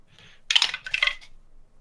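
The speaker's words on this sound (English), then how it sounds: "I love the sound of those dice. It sounds like when they're rolling." Dice roll across a tabletop during a Dungeons & Dragons 5e session in two quick bursts of bright plastic clatter, close and crisp, with near-silence around them.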